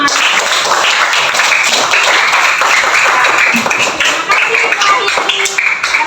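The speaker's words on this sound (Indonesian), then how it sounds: "Tepuk tangan buat kita semua." A school audience at SDN Kalideres 03 Pagi claps together after a mapping discussion, a dense, steady patter of many hands filling the whole stretch, loud and close, with some voices mixed in.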